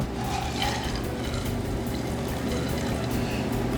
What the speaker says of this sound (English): Hawthorne Strainer. We're going to strain up.